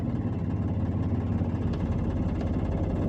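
A car engine idles steadily while the driver practises reversing, giving a continuous low rumble with a slight vibration and no pauses or other sounds.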